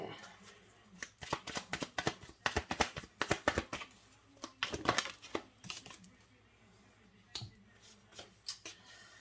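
Tarot cards being shuffled by hand, a quick run of crisp riffling flicks and slaps up close, then a pause and a few scattered card snaps at the end.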